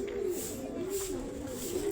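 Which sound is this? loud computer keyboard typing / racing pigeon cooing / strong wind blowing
racing pigeon cooing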